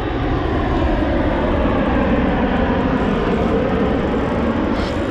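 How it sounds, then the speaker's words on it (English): A steady, droning roar of an airplane passing overhead, broad and continuous throughout with no voices. "You hear the plane going overhead."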